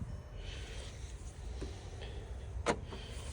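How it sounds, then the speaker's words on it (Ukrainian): A single sharp mechanical click of a 2019 Volkswagen Beetle's central locking releasing, quiet against low background hum, with a few faint softer clicks around it. "чутно класнуло, сработало, моргала лампочка"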